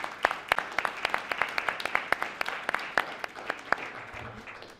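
Scattered audience applause at a book presentation, with sharp, distinct claps from a modest group that thin out and fade toward the end.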